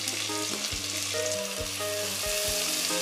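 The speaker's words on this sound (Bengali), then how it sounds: "মিডিয়াম টু লো ফ্লেমে পেঁয়াজটাকে আমি 3 থেকে 4 মিনিট ভেজে নেব" Finely chopped onions frying in oil over medium to low flame, a dense continuous sizzle with occasional faint clinks of stirring, close and steady throughout.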